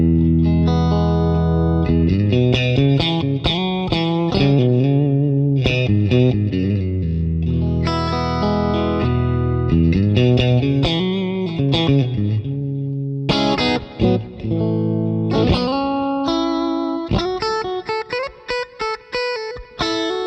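An electric guitar played through a Deluxe Reverb amp on neutral, somewhat bright settings rings out alone in melodic phrases of sustained notes and chords, ending with a run of short, choppy stabs.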